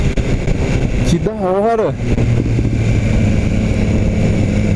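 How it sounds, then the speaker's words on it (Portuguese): Original stock exhaust of a BMW S1000 R motorcycle crackling and popping in a brief rapid burst amid steady engine drone on a ride, with someone speaking excitedly over the riding noise. "ela pipoca com escapamento original, mano"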